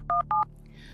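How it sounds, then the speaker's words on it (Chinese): Two short, steady telephone keypad dialing beeps sound in quick succession, close and clear, followed by a low background hum. "我给大姑打电话"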